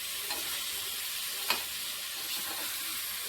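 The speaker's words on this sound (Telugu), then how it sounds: "రెండింటికి ఒకటేసారి తాలింపు పెట్టేస్తాను" A tadka for an amaranth-tomato curry and a cucumber chutney sizzles steadily in hot oil, a continuous bright hiss with faint stirring and one small clink, no voices.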